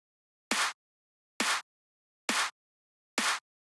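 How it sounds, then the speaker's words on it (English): A second layered kick drum sample, punchy with a quick pitch drop, struck four times in a steady rhythm in a trance drum loop, clean and alone. "And then the other kick sounds like this."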